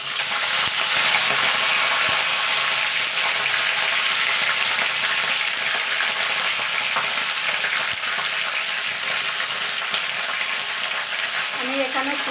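Malabar spinach stems go into a hot wok and fry with a steady, close hissing sizzle that fills the whole stretch, with occasional faint stirring and no talk.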